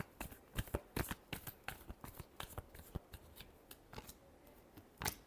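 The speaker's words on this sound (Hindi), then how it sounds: "Last shuffle." A deck of tarot cards is shuffled close up, giving a quick irregular series of crisp flicks and riffling slaps that now and then build into louder snaps, with no talking.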